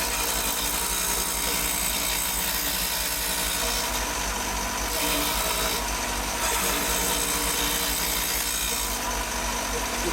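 A power saw cuts steadily with a miter gauge during a do-it-yourself part-making job, a loud and continuous whine that surges slightly every few seconds as the cut goes on.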